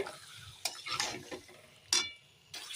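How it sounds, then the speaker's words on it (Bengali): A spoon stirs marinated chicken in a pot while biryani is being cooked. Several scraping strokes come at uneven intervals, close but quiet, over a faint sizzle. "এই মাংসটা আমি এখন ঢেলে দিলাম এখন ভালো করে নেড়ে দেব"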